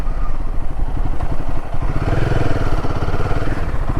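A motorcycle engine chugging close by at a rapid, steady idle while the bike is being parked, with a clattering mechanical rhythm and no voices.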